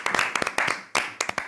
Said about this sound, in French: Bravo! Applaudissements.